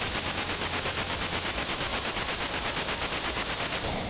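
Rapid gunfire in the Beach Head computer game: a steady, dense stream of machine-gun bursts with an even stuttering rhythm, loud and continuous throughout.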